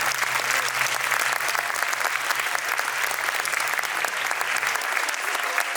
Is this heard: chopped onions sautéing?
no